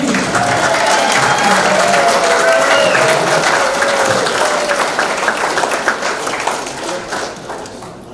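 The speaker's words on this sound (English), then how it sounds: "keep that applause going." An audience at a boxing hall of fame induction applauds loudly and steadily, the clapping thinning out toward the end.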